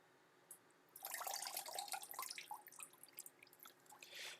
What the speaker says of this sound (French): Rassurez-vous, ça c'est un robinet, les gars.